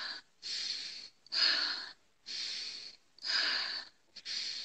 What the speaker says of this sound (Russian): Дыши глубоко.